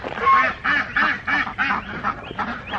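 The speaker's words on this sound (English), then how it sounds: "Ducks in the garden." Ducks in a waterlogged backyard vegetable garden give a run of six or seven loud, close, rhythmic quacks, then a few scattered softer ones, with no talk.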